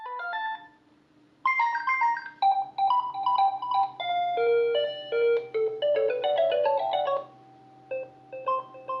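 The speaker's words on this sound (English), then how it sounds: "there's a selection of different ringtones to choose from" A Philips Linea M3301W cordless home telephone plays through a series of ringtones, clear electronic melodic beeps in short phrases separated by brief pauses, close and loud over a faint steady hum.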